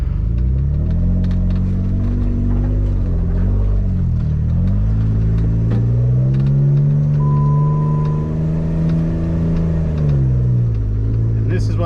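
An off-road vehicle on a mountain trail climbs a steep boulder, its engine droning loud and close, rising and falling in pitch as it revs under strain, with a voice talking over it.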